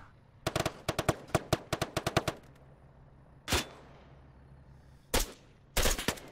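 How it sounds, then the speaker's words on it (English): Gunfire while shooting an enemy in the ArmA 3 military video game: a rapid string of sharp automatic shots, then a pause, a single heavy blast and two more short bursts, loud and close. "Hold on, let me get out and shoot him."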